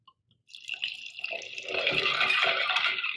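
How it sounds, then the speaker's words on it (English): Cold water pours steadily into a sugary coconut limeade mix, a splashing, trickling stream that starts softly and builds to a full, continuous pour. "And then to that we just add really good cold water."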